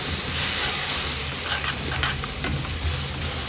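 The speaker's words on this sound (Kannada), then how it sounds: "ಗ್ರೀನ್ ಮಸಾಲ ರೆಡಿ ಮಾಡ್ಕೊಂಡಿದ್ವಲ್ಲ ಅದನ್ನೇ ಹಾಕ್ಕೊಂಡು ಚೆನ್ನಾಗಿ ಕುದಿ ಬರೋ ತನಕ ಚೆನ್ನಾಗಿ ಮಸಾಲೆನ ಫ್ರೈ ಮಾಡ್ಕೋಬೇಕು" Green fish masala fries in a pan with a loud, steady sizzle and hiss, and a utensil stirs through it now and then.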